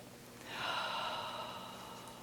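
A single slow, deep breath drawn in and released during a guided meditation, soft and close in a quiet room.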